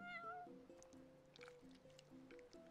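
Repeated cat meows from a video game, several plaintive rising and falling calls close and clear over a faint backdrop, with a wet squishy texture and soft background noise.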